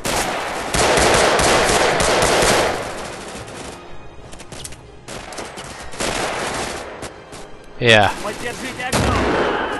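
Rapid pistol and gun fire in a video game, dense bursts of shots up close with a rising sweep sound near the end, while a player briefly speaks.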